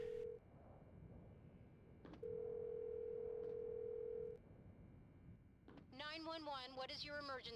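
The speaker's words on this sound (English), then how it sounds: "Yeah, you can even dial 911." A phone in Silent Hill: Shattered Memories sounds a steady dial tone broken by a few short, clean key beeps as 911 is dialled, and a voice answers near the end.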